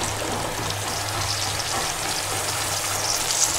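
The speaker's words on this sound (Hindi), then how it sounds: "इसके साथ ही हम इसमें जो हमने बैंगन काट के रखे थे वो भी हम डाल देंगे।" Cut eggplant fries in a pan of aloo baingan karahi, giving a steady, even sizzling hiss that stays close and constant throughout, with no talking.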